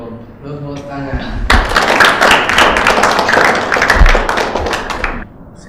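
A room of Islamic boarding school students bursts into a loud burst of hand clapping that lasts about four seconds, following a brief spoken cue, then stops abruptly.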